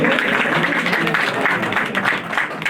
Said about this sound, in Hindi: So please give a big clap, big round of applause.